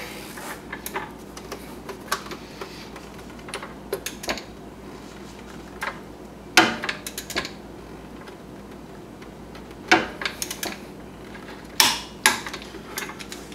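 A torque wrench with a 5/8 socket tightens a bolt to 35 foot-pounds on a Wildcat Sport CVT secondary clutch, giving irregular sharp ratcheting clicks in short bursts, close by and alone.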